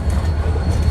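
A train rolls along a railroad wye, a steady close rumble of wheels and cars filling the moment with a low, continuous roar and faint rail noise above it.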